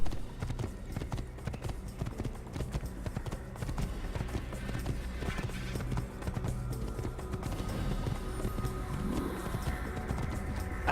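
Horse hooves gallop in the video game Assassin's Creed, a fast, steady clip-clop that runs without a break through a dense, loud game soundscape.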